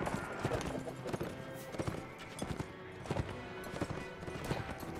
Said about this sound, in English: Can I get on one of their horses?